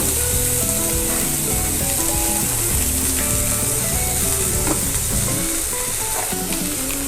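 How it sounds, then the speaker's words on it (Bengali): Mustard oil sizzling in a pan with chopped onions while cooking tilapia: a dense, even frying hiss close up, with repeated scraping and knocking from stirring running under it. "অল্প পরিমাণে একটু সর্ষের তেল দেব।"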